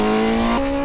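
Racing motorcycle screaming at full throttle in sixth gear down the straight of the Qatar circuit, a loud high engine whine that holds briefly before a quick pitch shift, heard close and alone.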